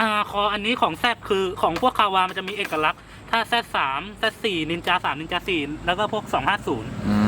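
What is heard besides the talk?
No everyday noise stands out behind the speech.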